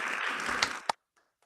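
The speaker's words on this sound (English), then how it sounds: "one more round of applause for all of our amazing resolution sponsors" Applause from a conference assembly at a youth model UN closing general assembly, a broad wash of clapping that fades out within about a second, ending in a few sharp final claps and then silence.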